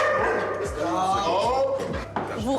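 An agitated dog belonging to a drunk man barks and yips repeatedly in a nighttime noise-complaint encounter with a gendarme, in sharp, irregular bursts amid voices.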